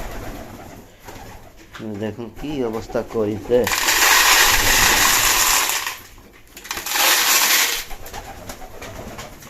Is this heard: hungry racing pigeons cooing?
yes